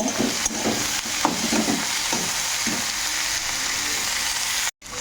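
Sauce frying and sizzling hard over a high flame with dried chillies, a steady close crackling hiss with a few stirring scrapes, cutting out briefly near the end.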